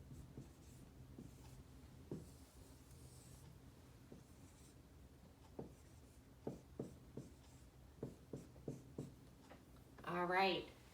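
A green pen writes on a surface, a scatter of short soft scratching strokes that grow denser toward the end, faint and close, ending in a brief scribble.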